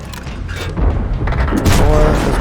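Tank cannon blasts from the World of Tanks game, several heavy booms in quick succession with mechanical clatter, loud and close, mixed with a voice talking over the gameplay.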